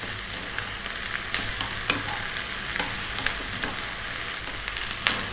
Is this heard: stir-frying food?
yes